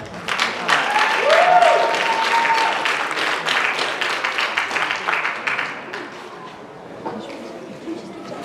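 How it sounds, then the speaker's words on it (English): After the last performance of an outdoor heritage month festival, the crowd breaks into applause, a broad wash of clapping with some cheering that swells and then slowly fades, with a brief whistle-like tone partway through. "let's give them a big round of applause because this is our last performance"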